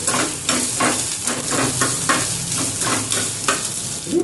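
Grated ginger and curry leaves sizzle in a pan of hot oil, giving a steady, loud frying hiss with pulsing stirring scrapes throughout and no talking.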